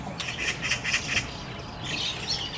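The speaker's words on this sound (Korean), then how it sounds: "아따, 새들 엄청 시끄럽네요." Harsh, repeated magpie squawks and chatter in quick bursts, fairly close, with a busy noisy background and no talking.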